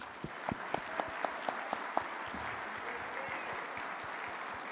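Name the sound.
audience applause at luncheon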